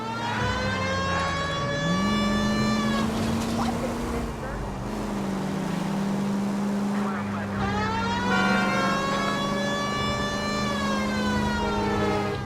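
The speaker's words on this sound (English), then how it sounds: "Even with the siren on?" Police car siren in L.A. Noire, a loud wailing tone rising and falling continuously over engine rumble, with someone speaking briefly.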